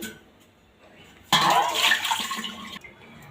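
Tap water suddenly gushes in a steady, close rush for about a second and a half over garlic cloves being washed, then cuts off, with no talk.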